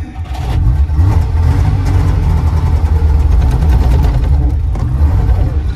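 A cold IFA Framo van from VEB Barkas-Werke Hainichen runs with its small engine chugging loudly and steadily up close, a throbbing low rumble throughout.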